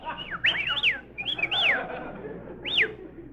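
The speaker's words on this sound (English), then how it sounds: "we may as well whistle at each other." Several rising and falling whistles, like wolf whistles from people in a wartime radio comedy, come in short swooping bursts close up over a soft background murmur.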